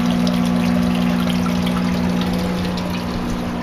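In a basement strawberry flood-and-drain system, a large sump pump hums steadily while water trickles and bubbles from air stones, a constant loud mechanical drone with no talking.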